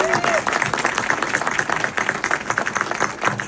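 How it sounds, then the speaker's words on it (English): A crowd claps steadily and fairly loudly for a community figure at a local gathering, the applause dense and sustained without a break. "He deserves a big round of applause too."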